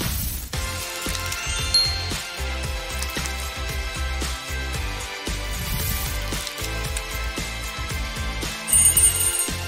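A mobile phone ringtone plays loudly and continuously as a bright, melodic electronic tune with a steady pulsing rhythm, with no voices over it.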